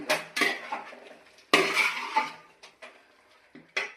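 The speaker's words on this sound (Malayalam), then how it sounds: "ഒന്ന് ഇളക്കി കൊടുക്കാം" A metal spoon stirs chicken curry in a pot, making repeated loud clanks and scrapes against the sides in irregular bursts, with quieter gaps between strokes.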